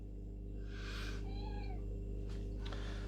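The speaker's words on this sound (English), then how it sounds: "My cat wants to get into the video." A cat meows twice close by, a short rising call followed by a longer harmonic meow, over a steady low electrical hum in an indoor room.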